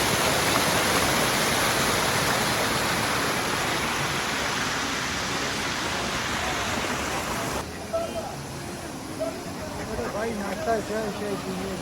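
Kiwai waterfall near Naran roars loud and steady for about eight seconds, a dense rushing wash of falling water, before the scene cuts to a quieter stretch where faint voices murmur over softer water noise.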